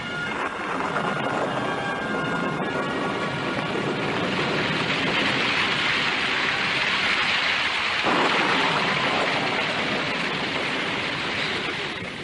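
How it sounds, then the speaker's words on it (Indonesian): Heavy rain pours steadily and loudly on a mountain summit, a dense continuous hiss with a faint rumble beneath and no voices. "ketika hujan turun dengan derasnya"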